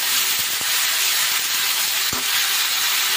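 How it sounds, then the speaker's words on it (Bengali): Cumin and coriander seeds frying in a hot pan give a loud, steady, dense sizzle that fills the whole stretch, with a couple of faint knocks underneath and no voices. "এই যে জিরে আর ধনেটা একটু ভেজে নিচ্ছি।"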